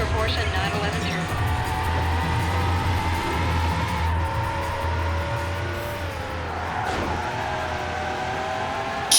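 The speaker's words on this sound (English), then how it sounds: "all units, 28 in high-speed pursuit. Vehicle is a silver Porsche 911 Turbo." A silver Porsche 911 Turbo racing in Need for Speed: Hot Pursuit 2, its engine droning steadily with tire noise throughout, a voice talking over it.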